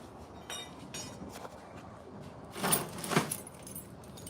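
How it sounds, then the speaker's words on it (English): Keys to a tool cart jangle in a shop, a few light metallic clinks and then a brighter burst of rattling, close and alone. "I think that's the keys to this tool cart."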